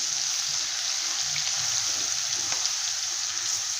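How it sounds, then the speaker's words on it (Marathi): Ginger and garlic frying in a pan with dried red chillies for a spicy whole masoor dish, a steady close sizzle with faint scattered crackles running throughout. "आता आलं लसूण टाकून घेते आणि मस्त असा भाजून घेते"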